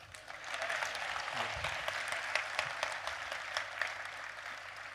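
Audience clapping after a poem recited about Shri Mataji at a gathering in Chhindwara, a broad wash of many hands that swells in quickly and holds fairly steady, with a low hum running underneath.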